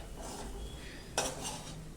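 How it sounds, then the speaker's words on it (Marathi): Dry red chilli thecha is stirred in a pan, giving faint scraping and a sharp metallic clink of a spoon against the pan. "हा ठेचा जो आहे हा पाच मिनिटं असा छान परतवून घ्यायचा"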